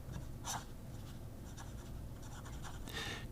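A No. 8 steel nib pen scratches across paper in short, close strokes, a dry papery rasp coming in a few bursts over a low steady background hum.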